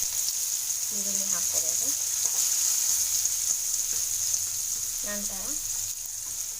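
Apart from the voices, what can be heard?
onion sizzling while frying in oil for okra sukka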